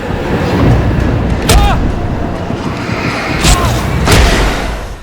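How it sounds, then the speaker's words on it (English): Explosion booms in the video game Alan Wake Remastered: three sharp, heavy blasts at uneven intervals cut through a constant low rumble. "Boom over there."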